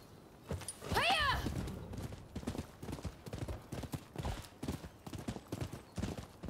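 Rapid clip-clop of a horse's hooves galloping in the video game Rise of the Ronin, a steady rhythmic pounding throughout, with a brief horse whinny near the start.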